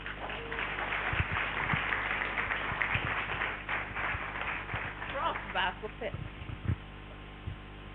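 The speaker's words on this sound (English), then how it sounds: "Please, let's give Prof another round of applause." An audience applauds a professor at a national stakeholders' dialogue on district-level elections, with dense clapping running throughout and a few louder claps and voices breaking through the crowd noise.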